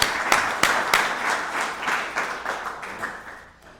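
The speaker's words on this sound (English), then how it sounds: "So let's give John and Dorsey a round of applause." A Rotary Club meeting crowd gives a round of applause, a few sharp early claps swelling into a steady patter that gradually fades away over about four seconds.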